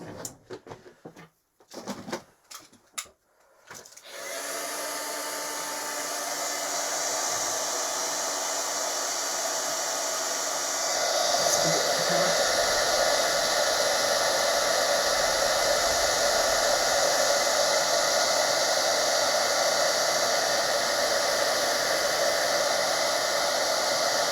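Heat embossing tool blowing steadily over embossing powder on a stamped card, a continuous loud hiss-like whoosh after a few brief clicks and handling sounds, sustained and close.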